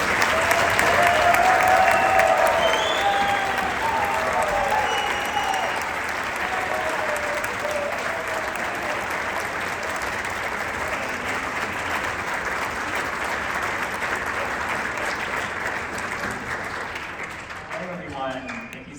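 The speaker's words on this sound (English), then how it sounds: "Big round of applause." Sustained audience applause at a school winter band concert in Las Vegas, filling the room, steady and dense, easing off gradually toward the end, with a few cheers early on.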